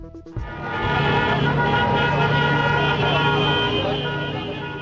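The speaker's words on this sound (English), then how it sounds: "People crowd the streets of Damascus, some honking their car horns in celebration." Car horns honking in celebration on crowded Damascus streets, several overlapping sustained toots and beeps from nearby vehicles over street noise.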